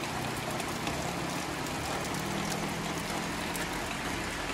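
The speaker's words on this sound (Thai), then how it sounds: "ฝนตก" Steady rain pours down during a storm at a rural garden home in Udon Thani, Thailand, a continuous dense hiss with trickling water and no gaps across the whole stretch.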